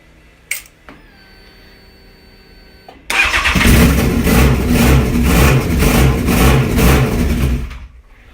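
Honda CBR929RR motorcycle fitted with a turbo, cranked over briefly before the engine catches and fires, settling into a loud, rough, steady run for about five seconds before cutting off.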